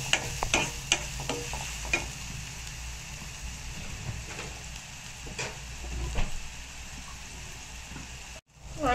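Onion and a slit green chili sautéing in a pan give a steady, moderate sizzle with faint stirring scrapes and a few sharper clicks, continuous throughout with no talking.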